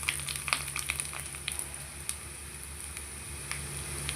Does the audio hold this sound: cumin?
yes